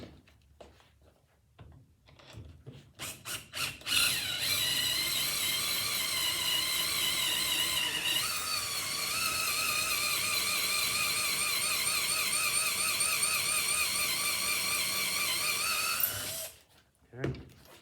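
A power drill bores out a golf club hosel clamped in a vise, a few short clicks and handling knocks, then a loud sustained whine of the drill biting into the metal for about twelve seconds before stopping abruptly.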